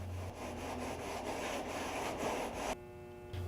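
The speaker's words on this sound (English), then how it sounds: "Then sand with a block of wood and 100 grit sandpaper to smooth the edges." A block of wood wrapped in 100 grit sandpaper smoothing the cut edges of a windscreen, making a continuous close rasping scrub that stops abruptly near the end, leaving a faint hum.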